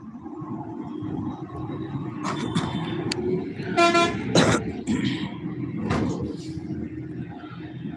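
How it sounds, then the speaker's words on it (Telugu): Inside a bus moving through traffic, a low engine rumble runs throughout, with several short horn toots and a sliding, door-like rattle near the middle. "నేను ఈరోజు బస్సులో వెళ్తున్నాను"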